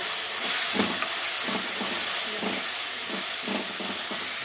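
Cabbage Manchurian with soy sauce sizzles steadily in a pan over a medium flame, a constant frying hiss with soft rhythmic scrapes from stirring every half second or so. The sound is close, with no talk.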